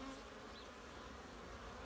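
Honeybees buzz outside their hive in late November, a dense steady drone of many insects, faint and continuous with no voices.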